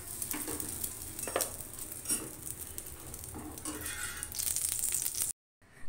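A slice of French toast fries in oil in a pan, with a steady close sizzle broken by scraping and tapping of a spatula, cutting off abruptly near the end.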